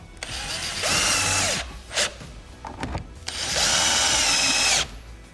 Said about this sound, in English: give it a couple of twists before you hit it with the screwdriver